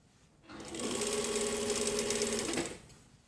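Sewing machine stitching a jacket shoulder seam from neckline to shoulder: one continuous close whirring run of about two seconds that starts and stops cleanly.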